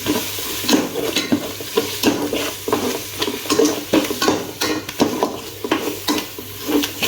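A spoon stirs masala through hot oil in a pan for kabuli pulao, giving repeated scraping strokes over a steady sizzle, close and fairly loud with no voices.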